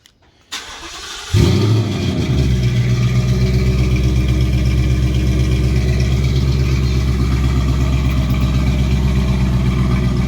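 A 2019 Ford Mustang GT engine with stock exhaust cranks and fires to life with a loud rumble, then settles into a steady, throaty idle that continues without a break.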